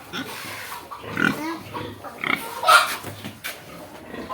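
Pigs grunt and snort in a repeated, irregular series close by on a farm in Pantukan, Davao de Oro, with some low farmyard background noise between the bursts.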